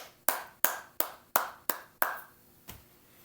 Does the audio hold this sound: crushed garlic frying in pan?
no